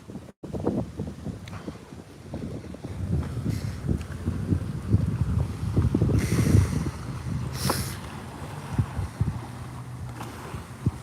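Water moving along a shore on a cold day, rolling and washing close by with strong wind buffeting the microphone, a couple of brighter hissing surges standing out, and no talking.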